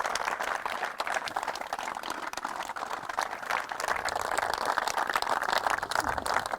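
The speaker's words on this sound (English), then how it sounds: "Zena, and give her a round of applause, please?" Applause for angler Zena Nugent at a free-to-enter fishing match prize presentation, a steady patter of clapping from a modest crowd held at an even level throughout, with no voices over it.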